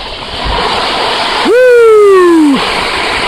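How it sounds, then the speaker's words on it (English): Heavy rain drums steadily on an REI Kingdom 8 tent during a thunderstorm, a dense, loud wash of noise heard from inside. Midway a brief falling tonal whine cuts across the rain. "With big time rain."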